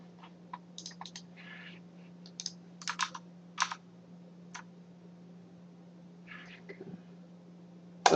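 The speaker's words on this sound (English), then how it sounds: "How do you like my super loud keyboard?" Keys on a very loud computer keyboard clack in scattered bursts and single strokes over a steady low hum, close and crisp, with no talking.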